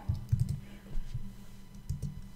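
Keys tap on a computer keyboard while entering numbers in a Google Sheets spreadsheet: a few close, soft clicks in small clusters separated by short pauses.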